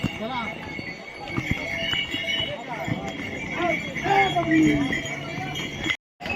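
Hooves clop unevenly on hard ground as horses and mules walk by on the Kedarnath pilgrimage trail, mixed with chatter from people nearby and a tinkle of bells.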